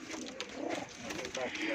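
Pigeons in a home loft coo softly and repeatedly at close range, the low rolling calls overlapping in a brief steady stretch.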